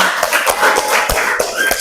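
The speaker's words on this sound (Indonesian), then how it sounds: "tepuk tangan untuk kita semua hari ini" Elementary school pupils and their teacher clap together at the end of a class, a short burst of sharp, close hand claps with uneven rhythm and no voices.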